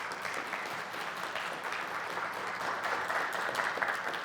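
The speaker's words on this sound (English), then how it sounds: "And a well-deserved applause as well." An audience at the EVO19 leadership keynote claps in steady, dense applause that holds loud and even from start to finish, with no speech over it.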